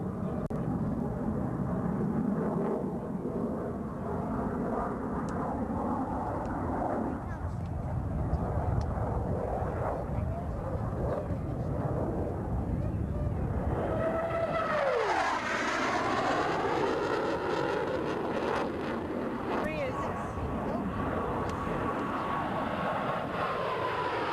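A military jet roars loudly through a knife-edge pass at an air show, a sustained engine rumble with a sharp pitch-shifting sweep as it rushes past midway, and a commentator talks over the noise.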